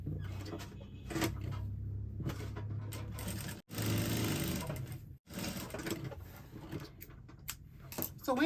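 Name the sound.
sewing machine stitching dress side seam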